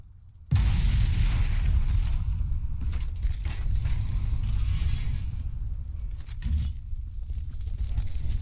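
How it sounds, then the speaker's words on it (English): A video game explosion that bursts in suddenly with a sharp onset, then sustains as a heavy low rumbling boom with crackling debris, fading slightly and swelling again toward the end. "Explosion."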